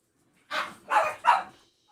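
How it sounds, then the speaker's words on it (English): Three sharp barks from dogs somewhere in the background of a home, quick and fairly close together, with silence before and after. "that's going to be my dogs acting crazy in the background"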